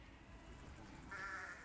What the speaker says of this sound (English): People want to see the sheep because somehow they belong to the Englischer Garden.